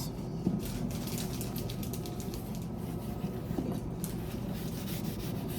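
A rag wiping mineral oil onto a black walnut wooden spoon, producing a soft, continuous rubbing and scrubbing with quick repeated strokes. Close and faint, with no talking.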